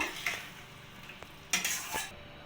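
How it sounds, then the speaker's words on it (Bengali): Mustard sauce with pointed gourd and prawns stirred in a pan, a handful of short scraping and clinking strokes of a spatula over a gentle sizzle, close by. "এখানে একটু ভালো করে নাড়িয়ে নেব"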